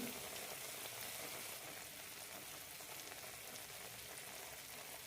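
Kannoorappam, a sweet snack, frying in hot oil, giving a steady, dense sizzle and crackle that holds level throughout with no talk.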